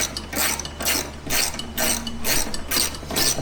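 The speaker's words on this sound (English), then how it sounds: "get up in here and get these bolts out" Ratchet wrench backing bolts out of brackets on a 2023 Honda Civic Type R FL5 during a catch can install, a rapid clicking pawl in repeated bursts of even strokes, close and loud, with no voices.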